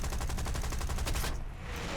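British Hispano cannons fire in War Thunder, a rapid continuous burst of loud, evenly spaced thuds that stops abruptly near the end, leaving only engine drone.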